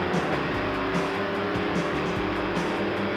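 Race car engine at a steady high drone on throttle at Saint Augustine racing circuit, a continuous loud roar with rumbling low end throughout, no voices.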